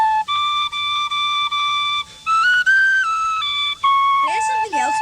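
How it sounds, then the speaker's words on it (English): A whistle plays a short tune in a radio play about Arthur Ransome, with clear piping notes that step between pitches in phrases, ending in a wavering trill, close and fairly loud. "Play us a tune on the whistle, Mr. Ransome."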